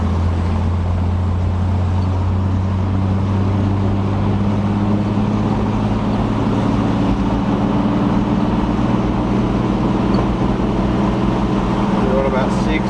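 Inside a turbocharged 60 series Land Cruiser under boost, a loud steady engine drone fills the cabin with a low hum, and voices talk over it.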